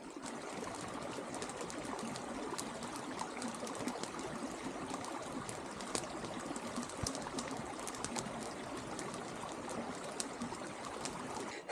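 Continuous soft hiss of water streaming from an outdoor camp shower, a steady faint spray with scattered splashing ticks and no voices.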